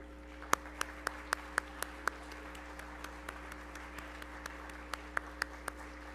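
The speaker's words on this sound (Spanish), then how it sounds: "Brindémosles un fuerte aplauso." Scattered, sparse claps from a few people in a legislative chamber session honoring award winners, about a dozen separate hand claps spread over several seconds, fairly faint over a steady electrical hum.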